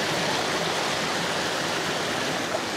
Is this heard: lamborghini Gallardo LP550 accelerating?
no